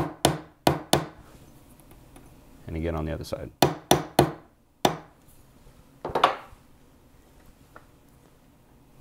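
Sharp metallic chasing hammer strikes flattening a ring on a steel block, single taps and quick pairs spread unevenly, with a brief spoken remark in between.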